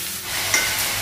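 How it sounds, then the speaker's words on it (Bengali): Ginger paste sizzles in a hot pan, a close, steady frying hiss with a faint stir partway through, lasting only about a second. "আদা বাটা দিব, ভেজে নিবি।"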